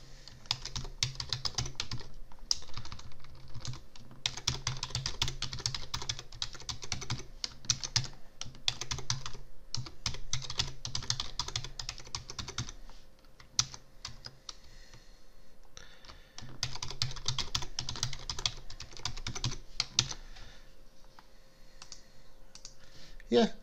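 A password is typed on a computer keyboard in quick bursts of clicking keystrokes separated by short pauses, close and fairly quiet, with occasional mouse clicks and no voices.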